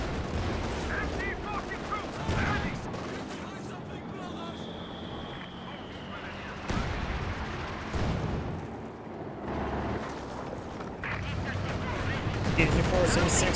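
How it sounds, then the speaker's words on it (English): Machine gun fire in Company of Heroes 2 battle pinning down a DShK heavy machine gun squad, rattling bursts and explosions blended into dense wartime ambience, with a commentator talking over it. "Taking fire! Dishka getting suppressed by the MG."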